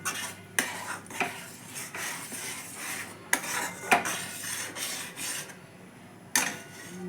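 A spoon scrapes and stirs through milk with grated khoa kheer in a pot, making soft rubbing sounds broken by a few sharper clinks against the metal.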